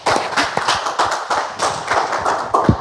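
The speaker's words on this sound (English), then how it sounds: "Let us keep clapping." A small studio audience claps in a loose rhythm on a television set, close, sharp individual hand claps with distinct repeated peaks, loud and with no talk.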